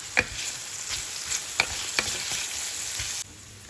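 Small pieces of beef tossed into a pan of cooking peppers give a close, steady sizzle, broken by a few sharp utensil clicks and stirring scrapes before the sound drops off abruptly.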